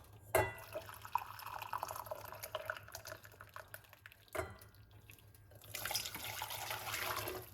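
Hot water runs from a tap in a steady quiet stream, with occasional clinks and drips, growing a bit louder toward the end.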